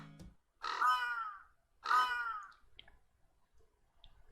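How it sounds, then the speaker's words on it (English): Two loud, harsh bird caws ring out about a second apart in a quiet scene from the Fate Grand Order video game, followed by faint clicks and small sounds. "Look, senpai, birds!"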